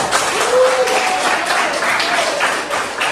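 Classroom applause, a loud, dense burst of many hands clapping together that holds steady throughout, with a few voices faintly mixed in.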